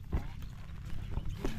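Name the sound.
water buffalo (carabao) hooves during race practice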